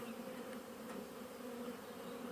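Honeybees from a large swarm colony with a newly mated 2024 queen buzz at an opened hive in early June in the Vienne, making a dense, steady drone that holds on without a break.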